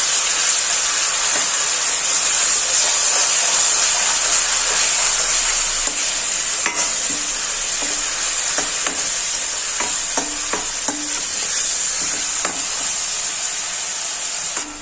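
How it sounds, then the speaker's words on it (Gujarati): Loud, steady sizzling hiss of onion paste sautéing in a hot pan for kaju gathiya shaak, with scattered scraping stirs and small pops throughout. "સાતળી લેશું।"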